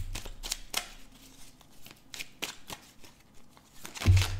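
Tarot cards riffled and cut by hand in a series of crisp, papery bursts with short pauses between, close and fairly quiet, ending in a louder slap of the deck.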